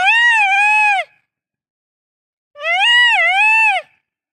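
Wild dogs give two loud, drawn-out whistling, wailing calls, each about a second long and rising then dipping in pitch, separated by a silent gap and heard close and clear with nothing else around.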